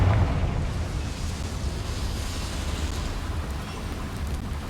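A Confringo fire spell blasts in Hogwarts Legacy, a loud burst at the start that trails into a long, crackling, rain-like rumble.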